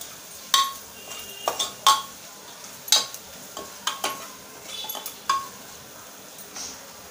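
Malvani masala and garam masala being sautéed in a pan, heard as a run of sharp metal spoon clinks and scrapes against the pan over a faint sizzle, with quiet stretches between strokes.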